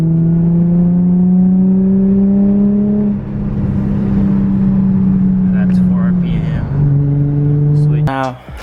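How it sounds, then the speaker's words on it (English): An Infiniti G35 coupe fitted with a Blox intake and plenum spacer accelerates hard, its engine note rising steadily through the gears with brief dips at the shifts, loud and close throughout, ending in a short high whine. "Right now I'm just gonna step on it and just see what the Blox intake has."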